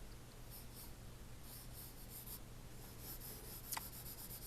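Pencil graphite scratches on paper in quiet, soft rubbing strokes, with a sharper tap near the end, recorded close while someone draws a figure.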